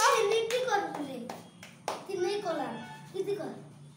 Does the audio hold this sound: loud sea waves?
no